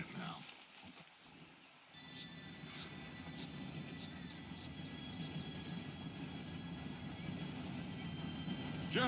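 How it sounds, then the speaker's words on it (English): A train approaching in the open-world video game Red Dead Redemption 2, heard as a low, steady rumble that slowly swells, with faint high whistling tones above it and quiet sounds of horses and riders nearby. "Train should be here any minute now."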